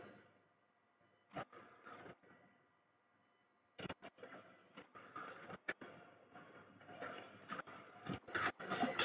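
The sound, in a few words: photo printer printing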